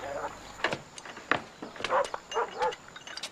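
A dog barks repeatedly in a quick, uneven series of sharp yaps at close range, loud and clear, with no voices.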